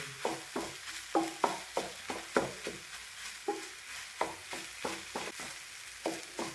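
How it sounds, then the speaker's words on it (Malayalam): Masala thoran frying in a pan, with a steady sizzle under repeated scraping stirs that land in a quick, uneven rhythm, close and moderately loud with no voices. "നമുക്കിതൊന്ന് ഇതിൽ കിടന്നൊന്ന് ഫ്രൈ ആവണം"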